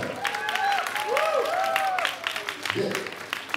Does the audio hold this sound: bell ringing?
no